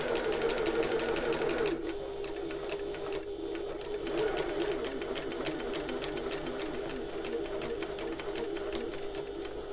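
A sewing machine stitches a shoulder bag, pausing with the needle down to pivot at a corner, its rapid, even mechanical chatter running steadily throughout, close and fairly loud with a brief dip in intensity partway.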